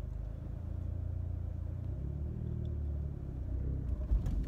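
A manual Chevrolet Camaro pulls away from a stop, its engine droning low and close, then swelling in pitch as the car gains speed through the gears.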